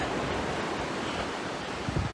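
Wind and surf at a creek entrance on English Beach, a loud, steady broadband roar of breaking waves and wind buffeting the microphone, with no voices.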